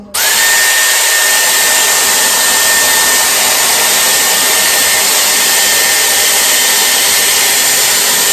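A Dyson Airwrap hair styler curls a lock of hair. It starts with a click, then gives a loud, steady blowing whine with a high tone that holds unbroken to the end.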